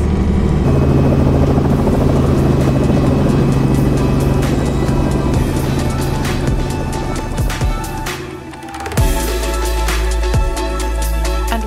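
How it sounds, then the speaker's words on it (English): A helicopter's engine and rotors roar steadily up close in Quebec, Canada, a loud continuous mechanical drone with shifting whine and rumble. "we're going on a helicopter right now!"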